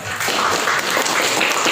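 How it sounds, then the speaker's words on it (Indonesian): A classroom of students claps together at the end of a lesson, a dense, loud patter of many hands that is close and continuous, with no voices over it. "Oke, tepuk tangan dulu untuk kita semua."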